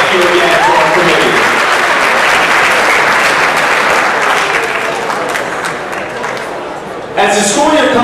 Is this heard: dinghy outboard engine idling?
no